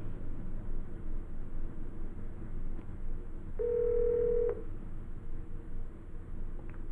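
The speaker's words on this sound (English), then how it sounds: "Dial the second party." A Cisco office phone gives a faint steady background hiss, then a short, clear dial tone of about one second plays near the middle, with small clicks around it.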